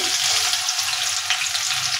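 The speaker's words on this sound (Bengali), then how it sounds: "ওই মাছ ভাজা তেলের মধ্যে আমি এখানে মোটা করে কেটে রাখা পেঁয়াজ দিয়ে দিচ্ছি।" Thick-cut onions frying in oil left over from frying fish, a steady bright sizzle filling the clip without pause, close and fairly loud with no voices.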